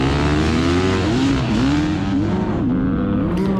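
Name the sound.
Beta 300RR two-stroke dirt bike engine at race start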